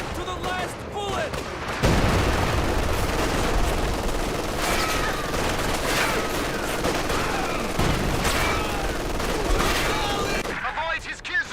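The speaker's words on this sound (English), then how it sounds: "Heavy machine gun north of the breach!" Heavy machine gun fire in a first-person war video game: dense, loud rattling bursts of automatic fire blending with other battle noise, sustained almost without pause before tapering off at the end.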